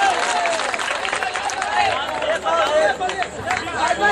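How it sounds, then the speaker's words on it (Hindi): A crowd claps loudly in an Indian Independence Day poetry gathering, a dense, steady wash of clapping mixed with cheering and babbling voices throughout. "जोरदार तालियां बजाकर आप इस्तकबाल करें"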